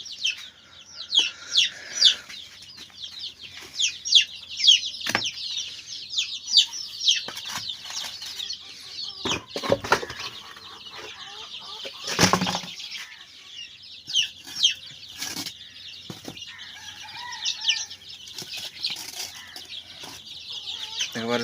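About 89 young chicks cheep busily while pecking at pre-starter feed in the morning, a dense chorus of high chirps with occasional wing flutters and soft knocks, no talking.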